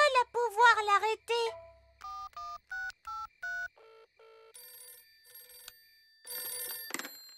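A telephone in a children's cartoon rings and beeps as a series of bright electronic tones and chirps, clear and close. A voice is briefly heard near the start.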